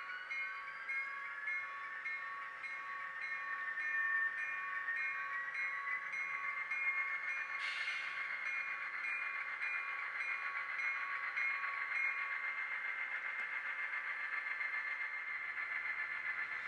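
A model railway train runs steadily on a switching layout, a continuous high metallic whine and rumble holding at even loudness throughout, with a brief bright burst partway through and no talk.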